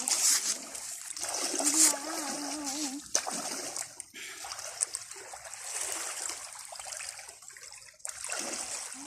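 Water splashing and sloshing in the sea at a beach while someone bathes, continuous and close, with voices talking over it throughout.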